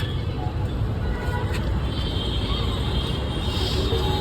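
Traffic on a busy main road rumbles as a constant, dense low roar of passing vehicles, steady and fairly loud throughout, with no distinct horns or single engines standing out.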